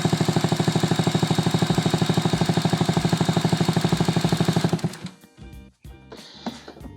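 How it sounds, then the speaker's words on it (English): Scooter engine turned over with the spark plug out to check the spark, a fast, even mechanical chugging for almost five seconds that stops abruptly, followed by quiet clicks and handling noises. "we're going to turn the engine over and see if we can observe a clear spark"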